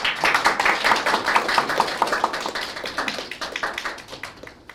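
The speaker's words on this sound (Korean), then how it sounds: "다시 한번 감사의 박수 부탁드리겠습니다." A room full of people clapping at a university president's inauguration ceremony, brisk and lively at first, then thinning out and fading as the applause tapers off.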